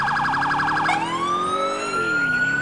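High-low police siren from GTA IV, loud and close: a fast warbling wail that switches abruptly into a long steady tone, then slides and dips without any talk.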